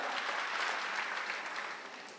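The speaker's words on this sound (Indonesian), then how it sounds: "Tepuk tangan bagi Allah kita." A church congregation breaks into a short burst of hearty clapping that fades slightly toward the end.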